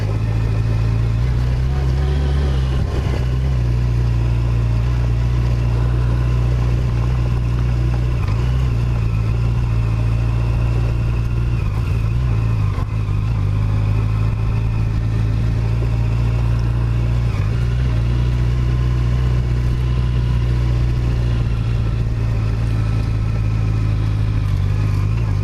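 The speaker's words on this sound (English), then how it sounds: "I'm obviously the only one here on a motorcycle." Yamaha FJR motorcycle engine running steadily in a parking area, a loud, continuous low rumble with slight rises and dips in pitch and no one talking.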